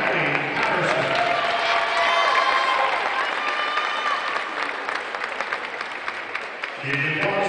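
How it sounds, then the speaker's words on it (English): Crowd applause and cheering in a gym at a women's college basketball senior night, a sustained loud wave of clapping with shouts, tapering near the end as a voice returns. "Give the applause for the ladies and gentlemen"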